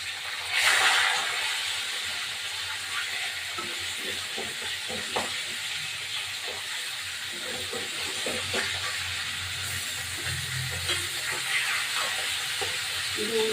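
Steady hissing sizzle of rohu fish frying in oil, continuous throughout, with a louder spatter near the start and occasional light clatter.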